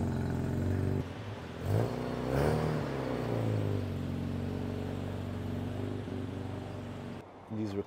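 Stock Mazda RX-7 12A 1.2-litre rotary engine with a bigger carburettor idling and blipping, a buzzy rising and falling engine drone with a couple of revs, heard nearby with muffled background noise.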